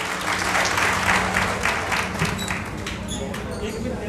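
An audience at a social organizations' rally applauds to welcome a speaker, a dense continuous wave of clapping over a low hum and murmuring crowd, loud and sustained throughout.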